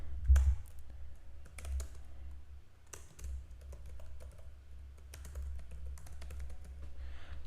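Code being typed on a computer keyboard in a quiet room, a steady run of soft close-up key clicks with a few louder taps and brief pauses, no voices.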